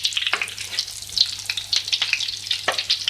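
Chicken, vegetable and cheese cutlets fry in a pan with a crackling, popping sizzle, close up and uneven, and no voices.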